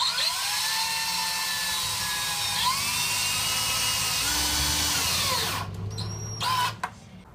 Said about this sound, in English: I'm starting off by just putting 3 screws on these 2x2s